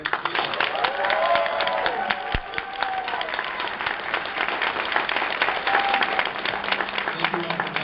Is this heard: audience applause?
yes